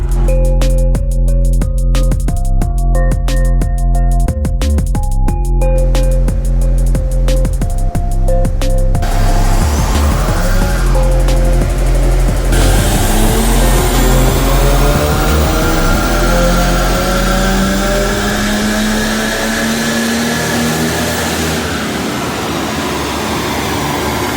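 A turbocharged Audi TT engine running on a dyno, first a steady idle hum, then revving up through a long sweeping pull with rising pitch, loud and close before settling back down.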